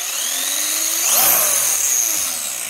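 A brushless RC10 GT2 car with a Castle 5700kv motor on a speed run gives a loud, high electric whine that climbs in pitch, peaks as it rushes close past, then drops away, with no talking.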